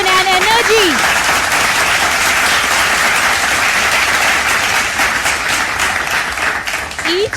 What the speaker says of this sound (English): Let's give them a big round of applause for their remarkable coordination and energy.